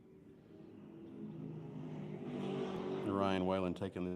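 A BMW M4 race car at Putnam Park approaches with a rising engine drone that swells loud near the end, heavy harmonic roar and revs as it passes, under a track announcer's voice.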